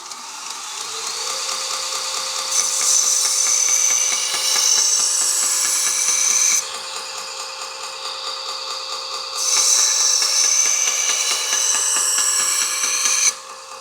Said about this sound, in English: just making our life a lot easier when we're sharpening on the stones